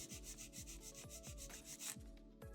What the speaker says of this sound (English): bring the file straight out until it's nice and even